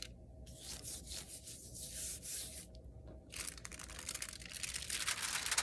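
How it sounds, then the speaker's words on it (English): Soft rubbing of a hand across the back of paper on a painted polka-dot pumpkin craft, a close, quiet scratchy brushing that comes in short strokes and builds slightly toward the end. "I'm just gently rubbing the back."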